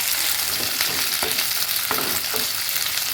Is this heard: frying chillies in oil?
yes